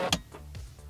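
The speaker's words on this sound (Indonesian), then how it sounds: "Itu adalah vakum kuncinya, kalau dimasukin bunyinya kayak gitu." Inside a Mercedes-Benz C200 S203 wagon, the key goes into the ignition and the vacuum lock answers with a sharp click followed by a few softer ticks, close and fairly quiet.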